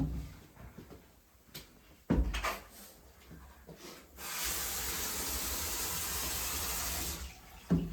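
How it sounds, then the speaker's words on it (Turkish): Bathroom being rinsed with plenty of water while clearing construction residue: scattered knocks and clatter, then a loud steady rush of running water from a tap or hose for several seconds, close by and without speech. "yapacağımız işlem bolsu ile durulama olacak"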